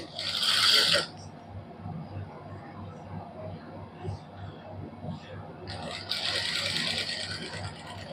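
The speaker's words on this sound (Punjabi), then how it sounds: "ਹੁਣ ਬੁਕਰਮ ਦੇ ਨਾਲ ਨਾਲ ਸਲਾਈ ਲਾਵਾਂਗੇ" A sewing machine stitches a suit neckline in cotton fabric backed with buckram, running in two fast, whirring bursts, one at the start and one near the end, with a voice talking between them.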